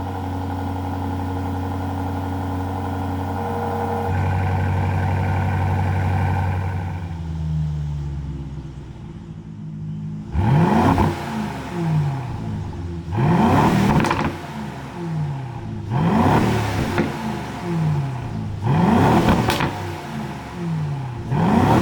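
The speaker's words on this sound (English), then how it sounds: "Let me turn it on again and show you what it sounds like." A 2024 Aston Martin DB12 Coupé idles and winds down, then starts up again and gives a series of sharp, loud revs that rise and fall in repeated bursts.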